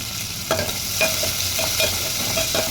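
Onions frying in a pan, a steady close sizzle with rhythmic stirring scrapes every half second or so, no voices.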